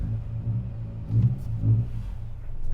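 A Honda Accord Euro R sedan pulls away with a low, fairly quiet engine rumble that swells twice as the revs rise, then settles back.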